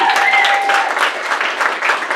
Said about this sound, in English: let's have a big round of applause for our improv troupe